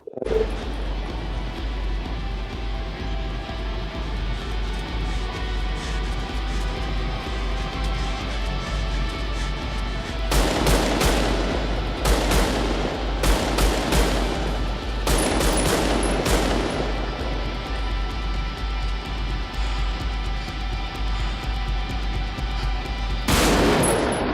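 Gunfire from a replayed shooting scene involving an FN rifle, several loud bursts of shots in clusters partway through and one more near the end, over a steady background hum.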